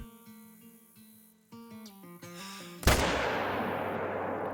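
A single loud rifle shot rings out in the Call of the Wild hunting game, a sharp blast with a long decaying echo that follows a few seconds of quiet tonal game ambience.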